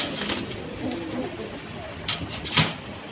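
Pigeons coo softly close by in short repeated calls while someone talks over them.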